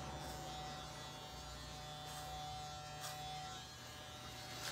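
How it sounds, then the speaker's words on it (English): An electric hair clipper buzzes steadily and close during a men's short haircut, a continuous hum with no talking. "there was like certain way to hold the clipper"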